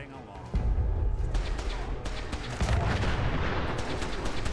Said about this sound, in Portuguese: Uma explosão